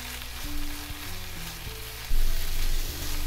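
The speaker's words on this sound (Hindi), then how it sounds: "मीडियम लो फ्लेम पे लगातार चम्मच चलाते हुए इसे पका रहे हैं" Poppy seed halwa cooks in ghee over a medium-low flame while a spoon keeps stirring it. A close, dense sizzle carries scraping strokes and swells louder partway through. No voices.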